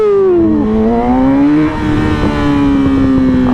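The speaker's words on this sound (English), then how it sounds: "Show y'all how this R6 really sounds, man." A Yamaha R6 sport motorcycle revving while being ridden on a potholed road: a loud, close engine note that rises, dips briefly and climbs again, heard alone.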